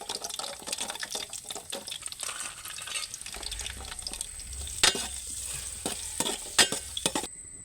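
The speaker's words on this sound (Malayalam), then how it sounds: "ഇനി നമ്മൾ മുന്തിരി ഇടുകയാണ്." Raisins and cashews frying in ghee sizzle continuously up close while a spoon stirs them, adding several sharp scraping knocks against the pan toward the end, with no voices.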